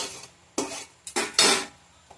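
Chicken kosha being stirred in a pan: four or five quick scraping strokes of a spoon against the metal, close and clear, with short quiet gaps between them and no voices.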